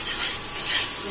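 A curry is sautéed and stirred in a pan, giving a steady, close sizzle with soft scraping as it is worked, and no voices.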